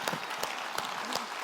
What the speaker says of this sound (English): would you please welcome with enthusiastic applause the winner of the 2011 Leadville 100, your very own Dan Ryland.